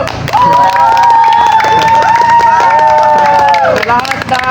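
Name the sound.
crowd shouting in agreement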